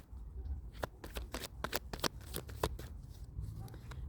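Tarot cards are shuffled and handled during a card reading, a loose series of crisp riffling snaps and slaps at close range, irregular and moderately loud, with no talking.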